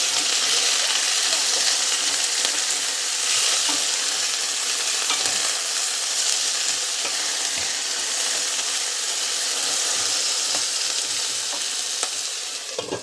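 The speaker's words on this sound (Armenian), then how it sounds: "Ես հիմա այս խառնում եմ, որ չվառվի" Food sizzles and crackles steadily in a hot frying pan, with occasional scraping knocks as it is stirred, close and continuous.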